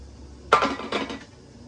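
Metal pot lid set back onto a steamer while cooking layered sapin sapin rice cake, a sharp close clank followed by a couple of quick rattling clinks.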